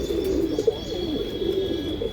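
Punjabi rocket bloodline pigeons coo softly and steadily close by, a low, rolling murmur with no voices over it.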